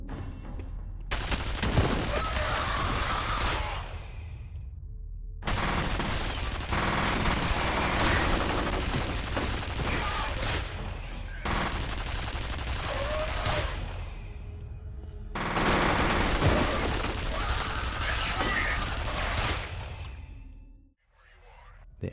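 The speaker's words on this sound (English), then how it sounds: "there are sections where you can use some of the ATC defense turrets" Heavy automatic fire from an ATC defense turret in the shooter game F.E.A.R. Extraction Point, loud sustained bursts of several seconds each separated by brief pauses, ending in quiet.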